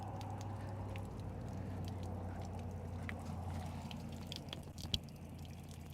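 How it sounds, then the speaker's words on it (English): Steady trickle of water draining from a boat motor on Lake Guntersville, a low continuous wash with scattered drips and a low hum beneath, plus one brief knock near the end. "that running water you hear is that of the motor draining"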